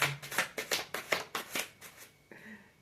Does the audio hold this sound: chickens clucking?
no